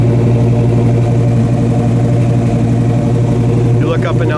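A 1968 Chevelle SS engine idles smoothly through newer dual exhaust, a loud, steady low rumble with no change in pace, and a voice briefly comes in near the end.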